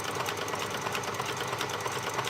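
A sewing machine runs steadily along the edge of handwoven fabric, a constant close mechanical whir with no pauses.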